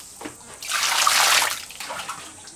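Carrots and celery rinsed under running water in a kitchen, a brief splashing gush that swells for about a second then tapers off, heard faint and alone.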